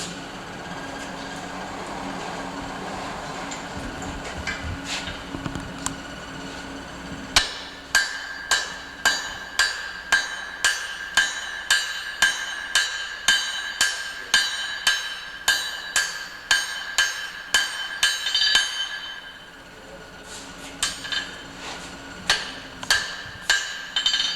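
A hammer forges farrier's tongs on an anvil with a long, steady series of sharp, ringing blows at an even pace. There is a short pause partway through before the strikes resume, and no talk is heard.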